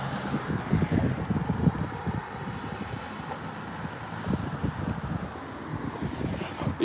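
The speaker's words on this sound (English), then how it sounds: "it's getting windy out here" Wind blowing outdoors, gusting against the microphone in a loud, continuous low rumble that swells and eases throughout.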